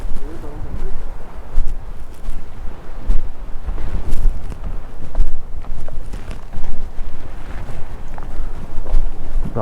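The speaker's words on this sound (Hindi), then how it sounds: "हवा की सरसराहट पहाड़ों में से घूम घूम के आ रही है।" Steady wind rushing through mountain terrain at a hill station on the Sindh–Balochistan border, a loud, gusty roar buffeting the microphone throughout, with scattered footsteps and a voice talking underneath.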